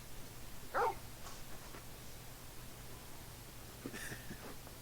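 Torgal, a large dog in the video game Final Fantasy XVI, gives a brief whimpering yelp early on, then a fainter whine a few seconds later over a low, quiet background hum.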